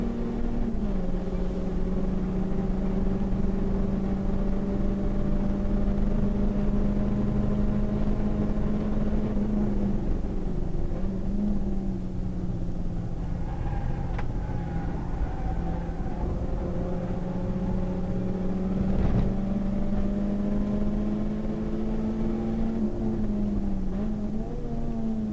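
Nissan Sentra SSS race cars lapping Hampton Downs in a one-hour endurance race, engines droning steadily with rising and falling pitch as they pass and shift, continuous and moderately loud with no talk.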